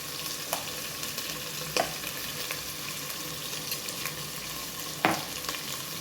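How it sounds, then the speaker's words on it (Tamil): Mutton being stirred in a pan with onions, curry leaves and turmeric, giving a faint steady sizzle of frying with a few soft scrapes and knocks of the spoon, and no talking. "நல்லா வந்து இந்த மாதிரி நல்லா கிளறி விட்டுட்டோம் வெங்காயத்தோட"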